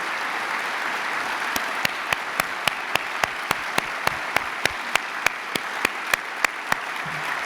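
An audience at an annual meeting applauds in a sustained, even wash of clapping, with one nearby person's sharp, regular claps standing out at a steady beat over the crowd.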